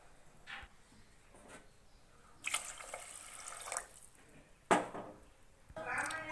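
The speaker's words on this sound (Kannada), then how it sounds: "ಈಗ 4 ಲೋಟ ನೀರು ಹಾಕೋತಾ ಇದ್ದೀನಿ." Water is poured into a cooking pot with rice for ghee rice, coming in several short splashing bursts with quiet pauses between, a louder gush near the end, and faint voices in the background.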